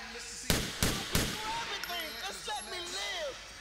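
Three sharp gunshots crack in quick succession in Grand Theft Auto IV, followed by chirpy, warbling game noises and faint clatter.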